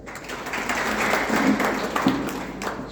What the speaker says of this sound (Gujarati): તાળી પાડો ભાઈ